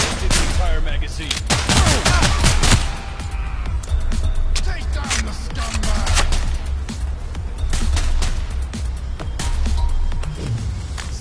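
Gunfire in a VR game empties a full magazine, sharp loud shots in a dense rapid string at first, then scattered reports with other game noise, and a voice talking over parts of it.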